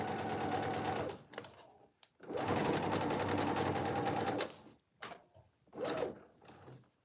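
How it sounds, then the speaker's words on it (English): A sewing machine stitches down a pocket on cargo pants, running in close, steady bursts of rapid mechanical whirring separated by short pauses, with no talking. "as I begin to sew the pocket down along the front, close to that folded edge"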